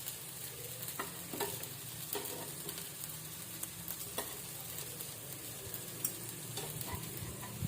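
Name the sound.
okra (bhindi) frying slowly in a pan on low heat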